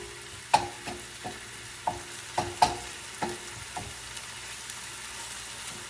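Meat frying in a hot pan on a home kitchen stove, a soft continuous sizzle broken by several sharp scrape-and-stir clicks at uneven intervals, close and fairly quiet with no talking.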